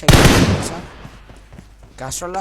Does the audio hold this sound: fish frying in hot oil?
no